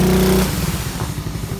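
An ATV engine idles steadily with a low, lumpy putter, a brief higher drone fading out early, then settling into an uneven chug.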